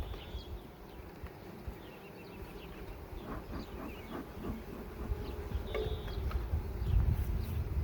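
A mass of honeybees buzzes around a hive, a low, steady hum with many overlapping wingbeats, growing slightly louder toward the end.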